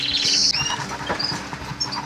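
A clear-plumaged Fife canary sings in a breeding room, giving quick bright chirps and short twittering phrases up close. The bird is heard alone, with no speech over it.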